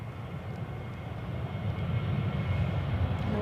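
A Ryanair plane at Edinburgh Airport roars with a steady broadband jet rumble that slowly builds in loudness, heard at a distance on a windy day.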